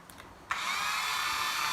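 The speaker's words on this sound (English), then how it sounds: "we ran it off of a 12-volt system to slow down the speed of the drill" A cordless drill powered from a 12-volt battery and rigged as a wood lathe for turning a bedpost starts up after a half-second lull, then holds a loud, steady, high whine with no talk.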